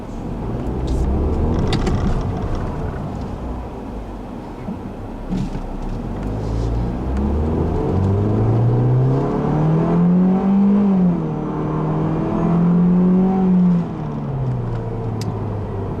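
A 2014 Ford Fiesta ST on the move, its engine rumbling steadily with a rising and falling tone as it accelerates and eases off, heard from close up throughout with road noise and no talk.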